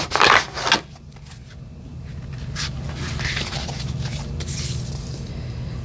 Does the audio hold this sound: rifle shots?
no